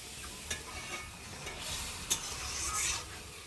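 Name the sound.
vegetable curry sizzling and simmering after water added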